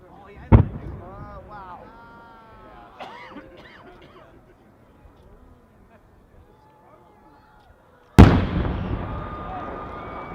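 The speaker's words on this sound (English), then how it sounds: "The next one we're going to take a look at is a 16-inch shell." A large 16-inch aerial firework shell made by Mark Merton bursts at an outdoor display, one sharp loud boom at the start and another heavy burst near the end with a long crackling tail, with faint crowd voices in between.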